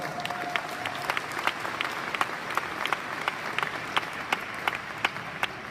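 An audience at a 2019 KaratBars business event in Amsterdam applauds, a steady wash of clapping from many people with sharper individual claps standing out, and no talking over it.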